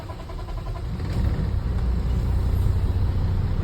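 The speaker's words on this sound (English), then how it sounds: "Go ahead and start the engine." A truck's diesel engine turns over and settles into a loud, steady low rumble that builds after the first second, heard up close with no talk.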